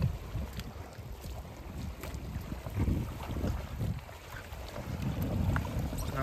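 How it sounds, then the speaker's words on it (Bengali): Wooden fishing boat on a Sundarbans river being pushed down toward the water, with irregular scraping thumps and bumps over steady wind and lapping water, fairly quiet throughout. "দেখো আমরা নৌকা ঢেলে নিচে নিয়ে যাচ্ছি।"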